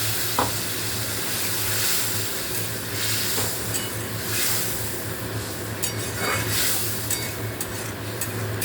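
Spices frying in hot oil for an egg curry, a steady close sizzle throughout with occasional faint clinks of stirring in the pan.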